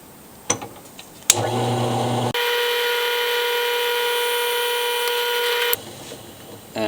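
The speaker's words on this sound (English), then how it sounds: "Now just you're gonna drill the hole." A drill press drilling a hole for a sling swivel stud whines steadily at a high, constant pitch for several seconds after a couple of sharp clicks, then spins down.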